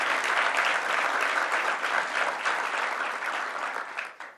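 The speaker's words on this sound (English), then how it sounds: "Let's give a round of applause to Hope Knight." Sustained applause from business leaders gathered with Governor Hochul in Westchester, a thick, even patter of many hands that holds steady and then fades out quickly at the end.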